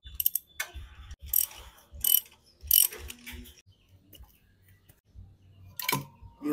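Ratcheting tool clicks come in short bursts as a Jexpeed GP2 open exhaust pipe is unbolted from a motorcycle, with metallic clinks and pauses between turns, close and moderately loud.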